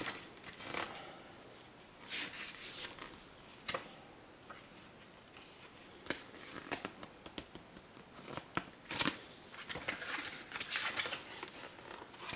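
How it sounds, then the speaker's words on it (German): Pages of a glossy product leaflet being flipped by hand, giving a run of soft papery rustles and brisk flicks with a few sharper snaps, fairly close and alone with no talking. "muss ich mal kurz blättern"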